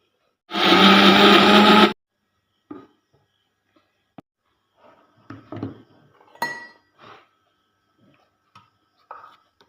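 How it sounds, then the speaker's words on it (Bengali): A mixer grinder whirs loudly for about a second and a half as it grinds soaked masoor lentils, then stops, followed by scattered clinks and knocks of the jar and lid. "এখন একটা আমি মিক্সির ঝাড়ে পিষিয়ে নেবো"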